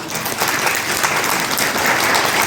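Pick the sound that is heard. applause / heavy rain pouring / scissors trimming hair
applause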